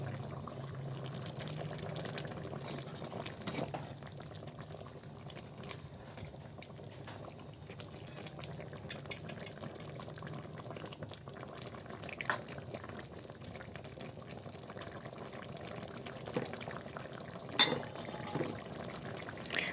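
Taro stems cooking in coconut milk bubble at a gentle, steady simmer, with faint liquid gurgles and an occasional soft clink, alone and with no talking.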